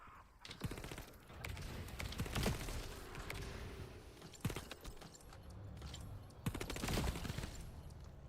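Bursts of gunfire crackle through a shooter video game, rapid volleys and sharp single shots layered over a busy, clattering mix of in-game action, loud and close with no talk.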